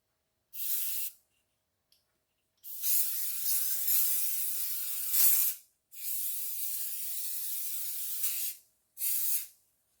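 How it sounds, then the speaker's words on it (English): Four bursts of hissing cooking release spray onto pie tins, two short and two long, with silent gaps between them and no talking. "I'm just going to spray with my seal spray and dust with flour the cases"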